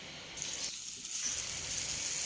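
Peeled bananas dropped into hot oil over medium heat, a steady bright sizzle that swells into constant loud frying crackle after a brief splash of stirring.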